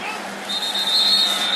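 A referee's whistle shrills at a college football game between Boston College and Florida State, a sustained high tone over crowd noise and stadium babble.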